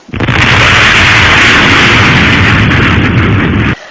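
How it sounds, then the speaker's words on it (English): A loud, sudden sonic boom: a sharp onset followed by a sustained, broad roaring blast lasting several seconds that cuts off abruptly. "since this overpressure is released very quickly, it is audible as a sonic boom"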